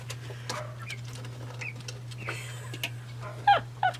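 Chickens clucking in a yard, soft scattered clucks and a couple of sharper calls at the end, fairly distant under a steady low electrical hum.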